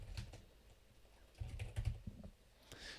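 Quiet keystrokes on a computer keyboard at a desk come in short, irregular bursts with pauses between them.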